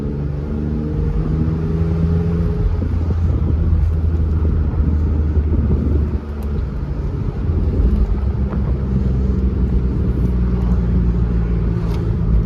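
A BMW Z3 with a 5-speed manual gearbox out on a test drive, heard from inside as a steady, loud low engine drone and road rumble with wind buffeting, unbroken across the whole stretch and without any talk.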